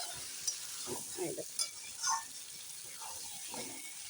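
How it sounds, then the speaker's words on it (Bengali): Potatoes frying and being stirred with spices in a pan for Bengali alur dom, giving soft sizzling and scraping bursts of stirring, close by, with moderate loudness. "এখন কিন্তু ছ্যাপ ছ্যাপ শব্দ হচ্ছে তার মানে জলের ভাগ আর নেই"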